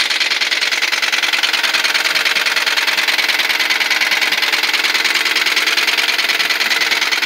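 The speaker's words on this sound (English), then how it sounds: "I wanted to give you guys an indication of what the motor sounds like" A Kia car engine runs at idle, loud and close, with a fast, even ticking throughout that suggests a lifter or rocker tick.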